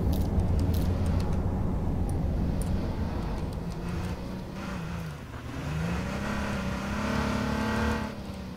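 A car engine in the video game H1Z2 revs and drones steadily, its pitch climbing and dipping, with faint clicks and jingling over the top.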